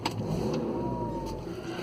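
2009 Audi A3 engine after a clutch replacement, cranking and catching into a steady idle, close and moderately loud, with no talk.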